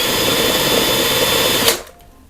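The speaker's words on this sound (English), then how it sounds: "So mixing it like that will clean up your drill bit easy." A power drill whirs steadily, churning through a bucket of water to clean a drywall texture mixing bit, then abruptly stops, leaving a faint hum.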